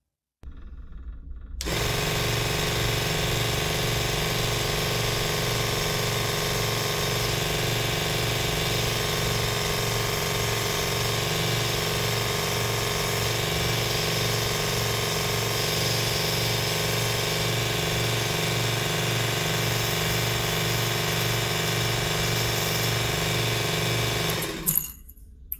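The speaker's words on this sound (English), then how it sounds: "I'm going to use my electric sander because it just gives a nicer finish" An electric sander runs steadily while tapering the end of a sarkanda reed float stem, giving a continuous loud motorized hum with a buzzing whine that stays even for over twenty seconds before cutting off.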